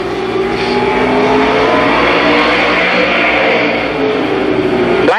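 NASCAR Winston Racing Series stock cars roaring down the straightaway at Columbus Motor Speedway, a loud, sustained dense engine drone from several cars at once, swelling briefly near the end as one passes close.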